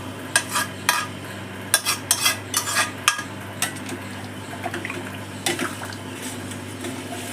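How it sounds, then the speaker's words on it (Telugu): Cooked dal being added to a drumstick dal soup and stirred in a pot, with a series of close, clattering spoon-and-vessel knocks and scrapes over a low steady hum, then a quieter stretch and a final few stirs. "ఇందులోకి మనము ఉడికించుకున్న పప్పు వేయాలండి"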